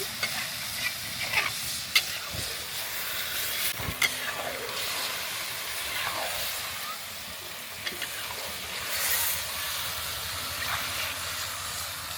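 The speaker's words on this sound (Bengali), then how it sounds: "এই মাংসটা নিয়ে এসে ভেজে নিচ্ছি" Broiler chicken pieces frying in a pan give a steady close sizzle with stirring scrapes and a few sharp knocks of a utensil against the pan.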